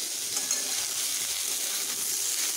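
Potato, pointed gourd and papaya fry together in a pan, giving a soft, even hiss of oil that stays faint and steady throughout, with no talking.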